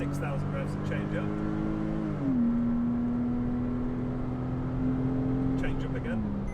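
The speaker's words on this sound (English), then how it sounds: "So as you accelerate, so really hard in third gear now." A Porsche Tiptronic engine pulls hard under acceleration in third gear, its pitch climbing toward 6,000 rpm then dropping with a gear change, while someone talks over the steady engine drone.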